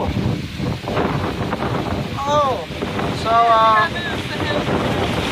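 Strong gusting wind from Hurricane Florence buffets the microphone in surges, roaring louder then easing, with brief voices and whistling tones in between.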